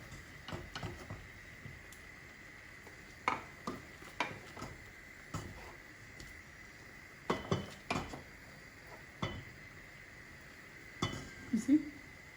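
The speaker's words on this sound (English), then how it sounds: "So I'll start by scooping out this snail out from the pot." A metal spoon scrapes and clinks against a pot while scooping out cooked snails, with sparse irregular clanks and taps at close range over a quiet kitchen background and a faint hum.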